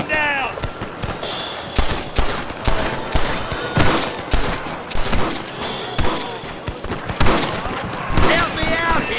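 Gunfire in a Red Dead Redemption shootout, a rapid series of loud, sharp shots fired in irregular bursts across the whole stretch, with shouting voices breaking in between the blasts.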